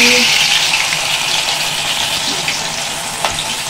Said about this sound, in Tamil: 65 நல்லா மசாலா ஊறி ரெடியாச்சு. எண்ணெயில போட்டாச்சு.